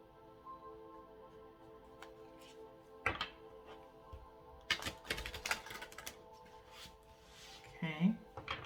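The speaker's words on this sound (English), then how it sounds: "We'll do one more shuffle before we cut by threes." An oracle card deck is shuffled in hand, producing short riffling bursts and soft taps separated by pauses over a quiet steady hum, close to the microphone.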